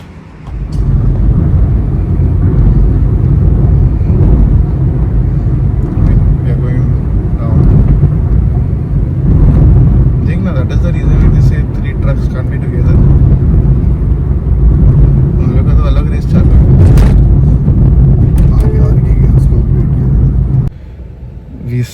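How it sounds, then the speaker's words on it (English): Vehicles sit stalled in a long highway traffic jam, heard from inside a car as a steady, heavy low engine rumble with road noise that holds for about twenty seconds before briefly dropping away near the end. "We are stuck in traffic"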